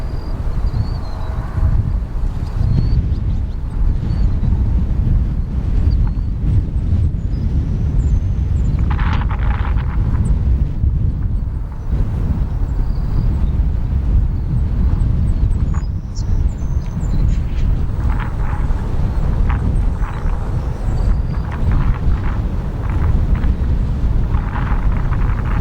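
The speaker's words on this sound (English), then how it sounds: "We have our American Airlines 787-8 arriving from Dublin" American Airlines Boeing 787-8 arriving from Dublin at Chicago O'Hare: a sustained, loud jet rumble with broad wind-like roar dominates throughout, with brief brighter hissing bursts scattered over it.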